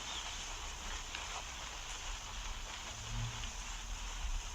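Steady rain in the Granny 3 horror game rain mod, a constant soft hiss of falling drops, even and unbroken, with occasional low thuds underneath.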